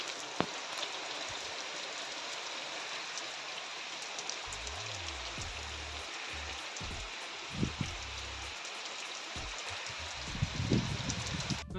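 Rain patters steadily on a tent cover in a forest during a camping trip, a dense even hiss with a few louder drips and low thumps.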